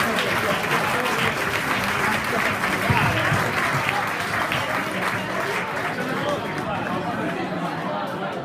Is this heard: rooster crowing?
no